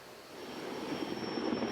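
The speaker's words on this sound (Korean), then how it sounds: "산림청과 소방헬기, 지자체 임차헬기가 분주히 오가며 물을 쏟아냅니다." Forest Service, fire department and leased municipal firefighting helicopters fly back and forth dropping water on a wildfire at a military firing range in Gangneung. A steady rotor and engine drone holds throughout and grows slightly louder.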